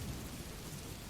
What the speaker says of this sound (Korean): 커튼 너머에는 폭풍우의 굉음이 작은 진동과 함께 창문을 쉴 새 없이 노크를 했어요